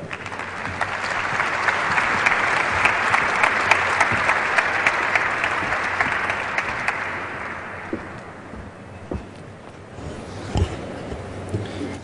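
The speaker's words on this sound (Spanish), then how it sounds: "Un aplauso para ellos." An audience at an education panel debate gives a full round of applause that swells, holds steady for several seconds, then thins out into scattered final claps.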